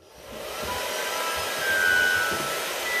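A hair dryer starts up and blows with a steady, loud whooshing hum that swells slightly midway, close by and with no voices.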